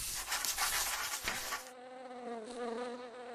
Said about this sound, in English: I see a bee's nest.